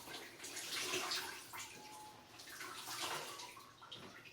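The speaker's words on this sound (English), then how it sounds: "dump out all of the extra water and detergent" Soapy water mixed with detergent is poured out of a tub after a zentai suit has been washed, making a close, continuous splashing gush that swells and eases in two waves.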